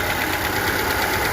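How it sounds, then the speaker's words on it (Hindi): An idling 2020 Honda Civic RS 1.5 turbo engine with a damaged cam keeps up a steady rapid ticking knock over a constant mechanical hum, loud and close. "इसके इंजन में ये आवाज़ आ रही है,"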